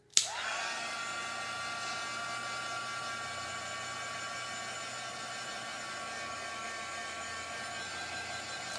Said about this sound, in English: Let's see what happens when we heat it with the heat gun.